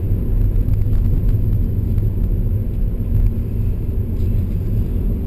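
A 2012 Nissan Leaf electric car accelerates at full throttle, a loud, steady low rumble of road and cabin noise with a faint motor whir, no voices.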